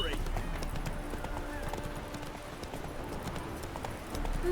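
Horse hooves clip-clop steadily in The Witcher 3: Wild Hunt, with a horse's whinny and game voices talking over the continuous trotting.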